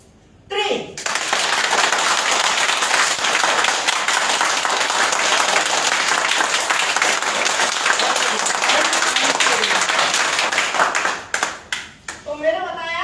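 A crowd at a leaders' meeting claps together on cue, a loud, dense burst of applause sustained for about ten seconds before it breaks off and voices return.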